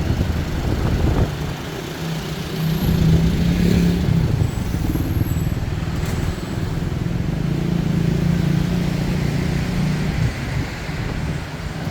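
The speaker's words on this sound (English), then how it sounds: "it's always a bit complicated to navigate in this traffic here" Slow, congested traffic with waiting taxis in Bangkok's Chinatown during Lunar New Year, a steady rumble of idling and creeping engines with passing motorbikes nearby.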